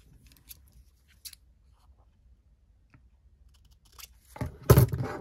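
Scissors snipping a paper envelope: a few faint scattered clicks and rustles, then a louder close cluster of cutting snips and paper crackle at the end.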